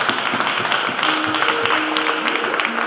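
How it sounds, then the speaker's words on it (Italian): An audience at the Bologna Award 2018 ceremony applauds, producing steady, dense clapping from many hands throughout, with a faint tone running underneath. "Un applauso, grazie."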